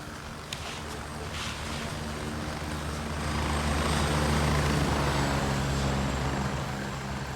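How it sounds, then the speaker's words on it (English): A helicopter in the video game Gray Zone Warfare roars with a broad, steady rotor and engine drone that slowly grows louder, sustained and heavy throughout. "You know what's loud in this game? Helicopters."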